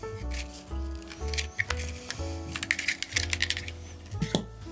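Scissors snipping and handling craft wire while making a beaded snowman ornament, heard as a series of small, sharp clicks and metallic snaps over a low steady hum.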